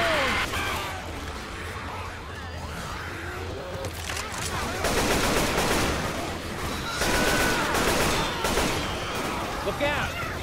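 Heavy gunfire with explosive frag rounds rumbles and cracks in Left 4 Dead 2, dense and continuous over a chaotic game soundscape, with people talking throughout.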